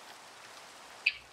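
Steady hiss of rain falling in the Minecraft video game, a soft even wash that holds at low level throughout, with one brief faint tick near the end.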